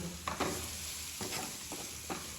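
Turmeric is stirred into a frying mixture in a pan, with a few distinct scraping strokes over a gentle sizzle in hot oil.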